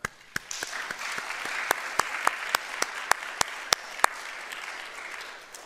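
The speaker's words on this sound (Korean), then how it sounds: "우리가 다시 한번 뜨거운 박수를 한번 하십시다" Church congregation of a Korean United Methodist church clapping warmly together, steady even applause with a few sharp louder claps standing out near the front.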